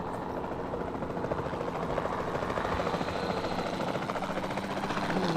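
A capture team helicopter in the dinosaur park game Jurassic World Evolution 2 drones with a steady rotor thrum that stays loud and even throughout, with no voice over it.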